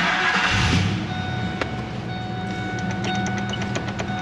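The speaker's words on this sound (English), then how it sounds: "Restarting the engine." A 2000 Ford F-series pickup with a damaged transmission idles after a restart, its engine giving a steady low rumble close by, joined briefly by a louder swell at the start and a few faint clicks later on.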